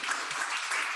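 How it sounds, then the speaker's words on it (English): A short burst of steady crowd applause at a coding bootcamp demo day, a continuous wash of clapping that stays even and moderately loud throughout. "So a big round of applause to him"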